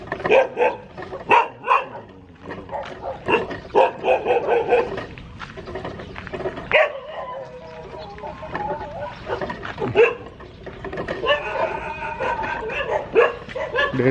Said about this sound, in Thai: ให้หมาพูดแทนเนาะ หมามันเห่าแทน